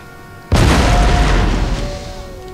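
A single loud explosive shell detonation in the Napoleon Total War game, a sudden close boom with a deep rumbling tail that slowly fades over two seconds.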